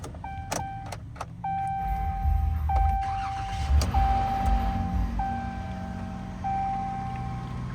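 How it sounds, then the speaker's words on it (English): Power windows hum and whine in short runs inside a 2022 RAM 1500 Classic Tradesman Quad Cab pickup, several separate motor passes with a few clicks and thumps between them, close up over a low cabin rumble. "Power windows."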